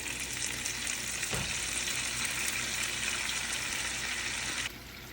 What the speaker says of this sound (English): Just adding a little cooking wine, white cooking wine.